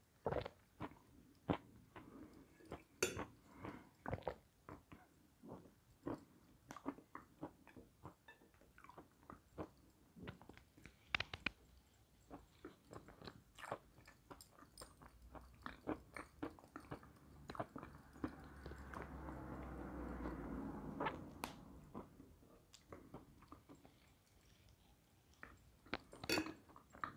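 During a mukbang, food is bitten and chewed close to the microphone: a long, irregular run of crisp crunchy bites and wet chewing, with a louder, denser stretch of mastication partway through.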